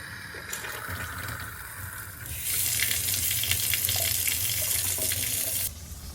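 Water pours from a faucet into a newly installed Kraus kitchen sink, a steady hissing stream that grows louder and brighter midway, then eases off near the end, close by with no talk.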